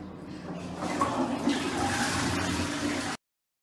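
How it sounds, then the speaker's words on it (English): A toilet flushes with a gushing, swirling rush of water that holds steady for about three seconds and then cuts off abruptly. "Recording flush noise."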